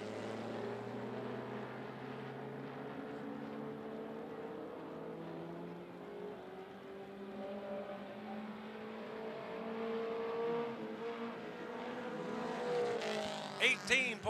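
Mini stock race car droning steadily around the 411 Motor Speedway during qualifying, a continuous engine hum with shifting pitch, growing slightly louder toward the end with a few sharp bursts.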